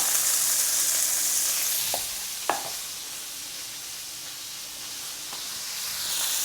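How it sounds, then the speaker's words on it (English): Butter sizzles in a hot pan where a steak is being cooked, giving a steady close hiss and crackle with a couple of sharp clinks from a utensil and no talk. "All right, so we're gonna add a little butter, guys. Add some butter to it."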